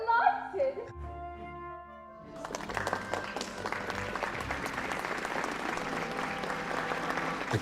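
Theatre crowd at Ford's Theatre applauding the president, breaking into dense, sustained clapping after a quiet, tonal opening, with music and voices mixed in.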